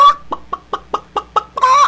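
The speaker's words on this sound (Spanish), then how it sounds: "Era la gallina, la gallina fina, quien al ver a Pollito Pito lo saludó" A hen clucks in a steady series of seven or eight short, sharp clucks, close and loud, ending in a longer drawn-out cackle.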